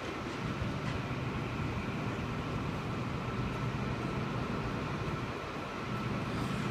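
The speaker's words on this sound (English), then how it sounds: "Now arriving on platform number 10, we have a V-set" Sydney Trains V-set double-deck train arriving at Central station platform 10, a steady, broad rumble of rolling wheels and motors sustained throughout at moderate distance, with no voices.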